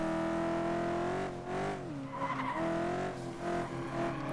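FlatOut 2 race car engines whine and shift pitch while tires screech in skids, a continuous synthetic roar with no talk.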